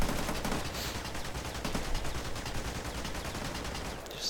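Heavy machine gun in the shooter game Rekoil fires in a long, steady burst of rapid shots, loud and dense throughout, with no talking.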